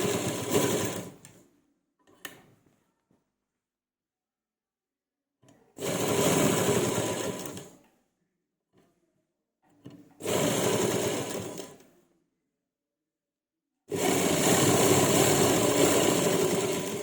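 A sewing machine stitches piping onto a round neckline in three or four separate bursts, each a few seconds long and loud up close, with silent pauses in between.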